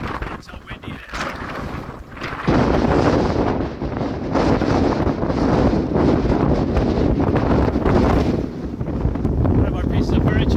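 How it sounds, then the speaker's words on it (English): Strong hurricane wind roars and buffets the microphone in a constant close rumble, growing louder after the first couple of seconds, with a voice faintly present underneath. "Oh, it's so windy. I can't even stand here."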